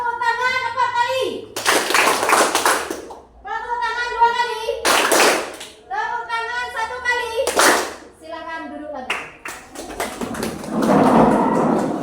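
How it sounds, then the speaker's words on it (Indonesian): Groups of children clap hands in quick bursts on an adult's spoken commands, with a woman calling out instructions between each round of sharp, loud clapping. "Tepuk tangan 4 kali. Tepuk tangan 2 kali."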